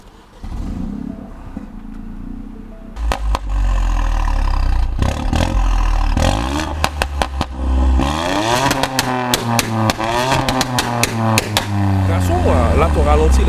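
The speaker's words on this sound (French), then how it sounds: "Là, ton ralenti, là, c'est le démarrage à froid." A modified Ford Fiesta ST engine cold-starting and settling into a loud, steady idle with some revving and clatter, close up, with people talking over it.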